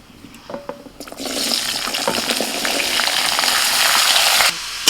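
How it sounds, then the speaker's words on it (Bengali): Potato, cauliflower, beet and carrot dropped into hot oil with butter and cumin seeds burst into a loud, steady sizzle after a few soft clatters, the frying hiss holding strong until it cuts off near the end. "সাদা তেলের মধ্যে এক চামচ বাটার দিয়েছি আর দিয়েছি গোটা জিরে ফোড়ন আলু ফুলকপি বিট আর গাজর একসাথে দিয়ে দিচ্ছি"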